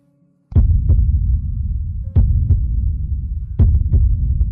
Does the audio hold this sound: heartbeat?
yes